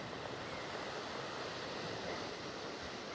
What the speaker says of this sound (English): there's waves going up and over it, so I can't really get on